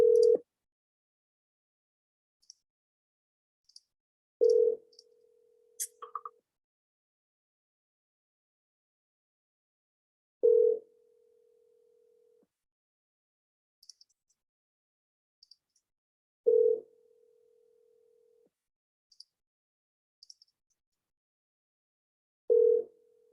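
An unanswered telephone call rings out in repeated single tones spaced about six seconds apart, each short pulse trailing into a held note, with faint clicks between and no voices.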